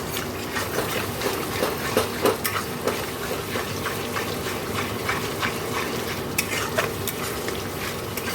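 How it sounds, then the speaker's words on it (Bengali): Spice masala with sugar fries and is stirred in a pan on the stove, a continuous close sizzle with a spoon repeatedly scraping and clacking against the pan. "তো এবার ভালো করে মশলাটা কষিয়ে নেবো।"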